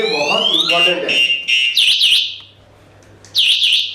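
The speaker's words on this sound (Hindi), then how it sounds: "एक तो सायरन कंटिन्यूस बज रहा है" An electric scooter's anti-theft alarm siren blares loud and close in repeated electronic bursts of rising and chirping tones, with a short pause before it sounds again, and someone talks over the start.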